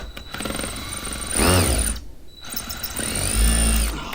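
A power drill boring into the leg of a handmade shoe rack, close and loud. It gives two whining bursts that rise in pitch, separated by a short pause, with no voices.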